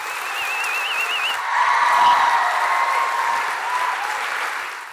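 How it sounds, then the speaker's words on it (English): Audience at a National Enterprise Challenge awards event applauding Lord Alan Sugar, a steady wash of clapping from a large crowd that holds for several seconds, briefly overlapping a tone at the start. "big round of applause please for Lord Alan Sugar"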